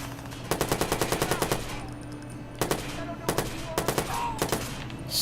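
Gunfire in the video game Watch Dogs, with bursts of rapid sharp shots in quick volleys separated by short pauses, loud and close.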